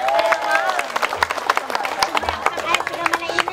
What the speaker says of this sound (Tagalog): Sige, papalakpakin mo sila.